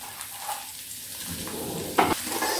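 Chopped onions sizzle and fry in a pan of ginger-garlic paste while cooking pav bhaji, a steady crackling hiss with a brief louder burst of stirring near the end.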